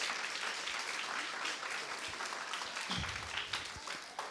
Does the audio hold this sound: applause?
yes